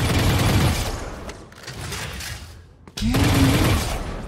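Rapid automatic fire from a Phantom rifle with a knife skin in a first-person shooter, a dense burst of loud shots for the first second, then quieter game noise and a second loud burst near the end.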